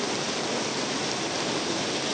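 Steady broadband rush of rain and floodwater in a street, loud and unbroken with no distinct events or voices.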